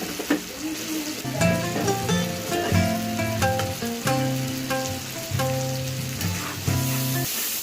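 Spices sizzling in a pot as a little water and ghee go in for a hilsa and eggplant dish, a loud bubbling hiss throughout with repeated tonal scraping strokes from a utensil.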